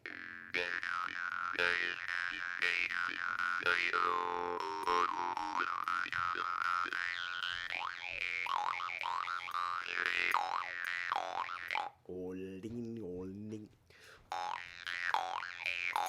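A twangy jaw harp plays continuously with shifting high, squealing overtones, briefly dropping to a lower wobbling tone near the end.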